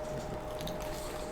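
A crunchy Indian snack with plum chutney is bitten and chewed up close, a short moist crunching and squishing over a faint steady hum.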